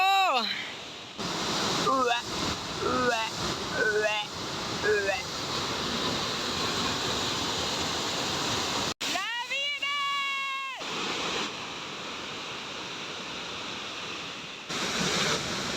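Spray from a waterfall in Chile makes a steady, broad rushing roar while a person talks over it, with a short quiet gap partway through.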